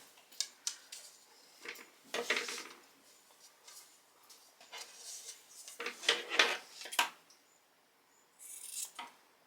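Scissors snip through men's flannel shirt fabric in a string of short, crisp cuts with brief pauses, close and moderately quiet, with no talking.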